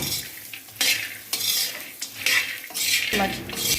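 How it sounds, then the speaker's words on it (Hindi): Almonds, walnuts and cashews fry in a little oil with a soft sizzle. A metal spoon clatters and scrapes against the pan in uneven bursts, close up with no talking. "हल्के ऑयल में फ्राई कर रही हूँ ना"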